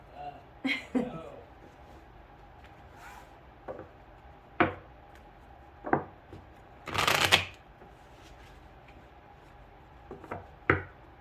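Cards being shuffled in several quick riffling bursts, close by, with brief pauses between and one longer, louder riffle in the middle.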